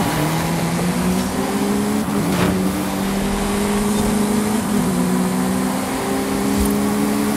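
Car engine from the racing video game Forza Horizon 5, droning loudly and steadily throughout with a sustained, slightly shifting pitch and no speech.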